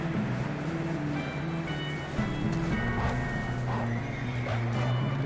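A horse in Red Dead Redemption 2 neighs and whinnies over steady clip-clopping hooves, loud and close, with layered tonal game sound running beneath it throughout.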